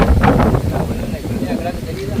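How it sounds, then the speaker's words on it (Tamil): Wind buffets a microphone outdoors at a house in Jaffna, giving a low, rumbling gusty roar under someone speaking nearby. "காற்று அடிக்குது"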